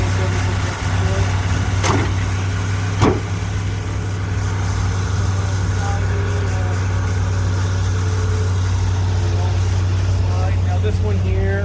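Ford 302 V8 engine in a 1991 Ford truck idles steadily and close, a low constant rumble running throughout, with a couple of brief clicks or knocks early on.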